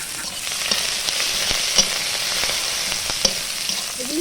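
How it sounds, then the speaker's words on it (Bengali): Garlic and onion are dropped into hot oil with dried red chillies, frying with a steady close sizzle and a few faint crackles and stirring taps. "এবার আমি রসুন আর পেঁয়াজ ফোড়ন দিয়ে দিচ্ছি।"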